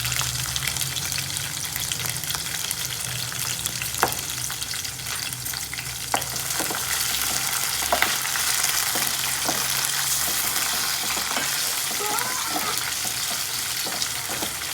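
Okra and onions sizzle steadily in hot oil for a fish curry, a dense even frying hiss throughout with a few sharp clinks of a utensil against the pan.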